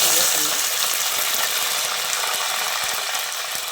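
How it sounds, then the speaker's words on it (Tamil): Steady broadband sizzle of finely chopped shallots frying in a pan until golden, continuous and close, with faint clicks of stirring throughout. "வெங்காயம் நல்லா வதங்கி வரட்டும் பொன்னிறமாக"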